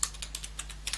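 Soft clicking keystrokes on a computer keyboard as text is typed into the Nano editor in a Linux terminal, irregular taps close and fairly quiet over a low steady hum, no voices.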